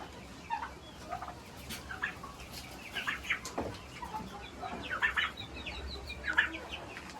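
Young two-month-old turkeys and chickens in a farmyard, with scattered gobbles, clucks and chirps rising and falling at moderate distance over a steady background murmur, no talking.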